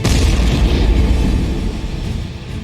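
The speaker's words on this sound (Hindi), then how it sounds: "जोर का धमाका हो गया" A loud, booming explosion from a suicide bomber's belt bomb, a deep low rumble that swells at once and slowly fades, with no voices over it.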